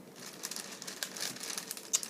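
Soft, plain wax loaf being cut apart, a close, faint crinkling and crackling with small irregular snaps, no talking.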